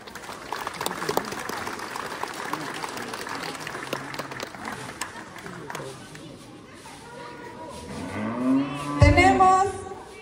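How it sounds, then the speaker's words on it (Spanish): Crowd at an outdoor village corral blessing ceremony in San Juan Yaeé applauds the parish priest, scattered clapping mixed with chatter, with voices and louder crowd noise toward the end. "para quien pido fuertes aplausos"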